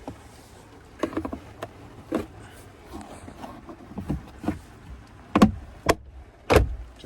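A glove box door on a 2015-2020 Ford F-150 cabin is swung back up and latched, giving several close plastic knocks and clicks with a couple of sharper thumps at the end.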